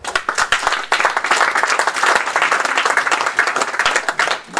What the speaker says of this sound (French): Il faut les acclamer.